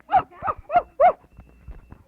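A puppy dog's barking comes as four quick, evenly spaced yaps up close, followed by soft, low grunting noises; the barks may be a person's voice imitating a puppy.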